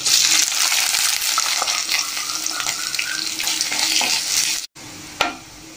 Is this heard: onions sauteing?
yes